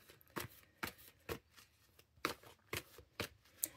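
Tarot cards being shuffled and drawn, a series of about eight crisp riffling and snapping bursts at an uneven rhythm, close and fairly quiet with no talk.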